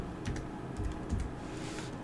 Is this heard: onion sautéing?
no